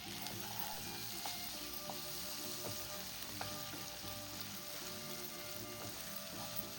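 Cleaned raw prawns fry with turmeric in a pan for an Andhra-style prawn curry, a faint, even sizzle with soft scraping from stirring, no speech.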